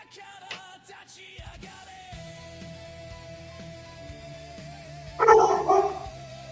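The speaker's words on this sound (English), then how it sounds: "Someone's dog is barking." A dog barks in a short burst of several loud yaps toward the end, over a steady background drone from a tabletop game session's surroundings.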